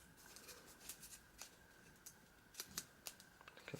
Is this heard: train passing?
no